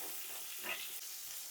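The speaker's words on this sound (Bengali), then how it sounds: "ওই তেলেই এবার আমি পটলগুলো ভাজবো।" Pointed gourd (potol) slices frying in oil, a faint, even hiss of sizzling with a brief swell midway and no speech.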